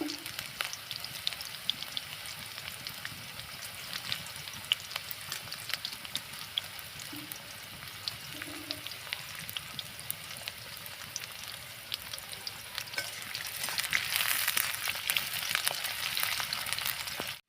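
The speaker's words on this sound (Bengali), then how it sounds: "পেঁয়াজ ভাজা হয়ে গিয়েছে" Onions fry in a pot on a clay stove with a soft, continuous crackling sizzle and occasional stirring. The sizzle grows brighter and louder toward the end.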